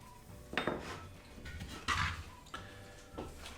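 Metal ham holder stand for a Spanish Serrano ham being assembled and tightened, giving a few sharp metallic clinks and knocks spaced across a quiet background, close and fairly soft.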